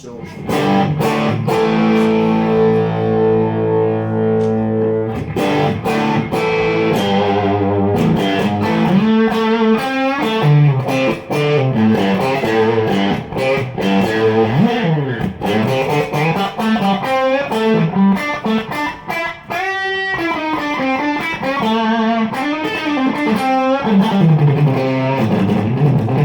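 A heavily distorted electric guitar through a Mesa Boogie Lone Star Special tube amp on its 15-watt setting plays sustained chords and riffs, loud and continuous, with no talking.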